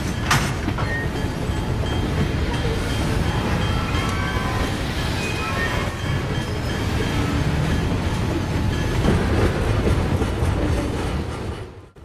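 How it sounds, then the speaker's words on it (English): Trains rumble and clatter continuously through a rail yard, with metallic clicks, clangs and rolling wheel noise, loud and close. "you just get this sort of chug, clang, click of trains coming into and going out of the station."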